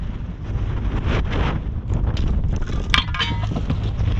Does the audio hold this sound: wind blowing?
yes